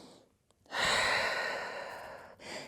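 A person takes a long, audible inhale during a yoga session lying on the back, a breathy rush that swells, holds for about two seconds and fades, with a brief quieter breath before it.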